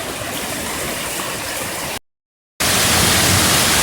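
Heavy hail pounding down during a long Colorado Springs hailstorm, heard from inside a garage as a dense, steady roar of broadband noise, broken by a short silent gap before returning even louder.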